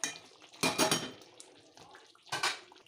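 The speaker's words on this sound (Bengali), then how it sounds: "এরপর ঢাকনাটা তুলে নেব।" A lid lifted off a pot of white chicken curry nearly ready on the stove, giving two bright metallic clanks and scrapes, the first at the start and a second later, close and fairly loud with quiet kitchen noise between.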